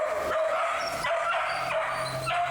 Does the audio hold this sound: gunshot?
no